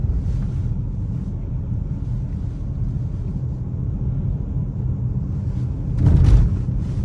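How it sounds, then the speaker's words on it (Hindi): Steady low rumble of a Honda car on new tires rolling over rough road, with a heavier thump around the end as the tires hit a pothole. "और जो खड्डों में साउंड आ रही है ना टायर की"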